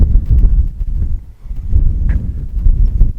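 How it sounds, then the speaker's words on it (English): Gusty wind buffets the microphone on a breezy mountain top in Pine Valley, Tasmania, near The Acropolis, a steady low rumble that swells and eases in waves with no voices. "There's a bit of wind up here, but not too bad, just breezy."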